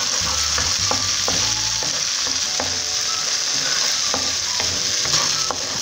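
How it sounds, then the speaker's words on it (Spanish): Ají colorado chili fries in a pan while it is stirred, a loud steady sizzle close by with repeated scraping clicks of the spoon against the pan. "Siempre moviendo para que no se nos vaya a quemar."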